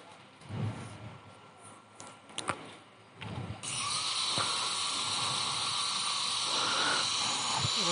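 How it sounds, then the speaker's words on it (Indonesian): An angle grinder shapes and trims the handle of an old discarded knife, starting with a few scattered bursts of light grinding, then settling into a steady, loud, continuous high whine. "Pralon yang dari pisau dirapikan dengan gerinda guys, biar terpotongnya rapi"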